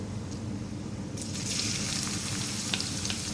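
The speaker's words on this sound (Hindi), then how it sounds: "प्याज को फ्राई करना है और इसका अच्छा सा लाइट गोल्डन कलर करना है" Finely chopped onion frying in oil with cumin and two chillies, a dense steady sizzle that grows louder and brighter partway through, with a few faint clicks from stirring.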